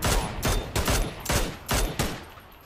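Video game gunfire: five or six loud, evenly spaced single shots ring out in a steady rhythm, each with a short decaying tail, with no talk over them.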